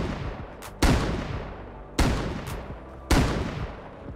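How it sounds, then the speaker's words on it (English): A pump shotgun fires three loud, sharp blasts about a second apart in the survival video game Rust, each with a short decaying tail and a faint mechanical click before it. "Pump shotgun."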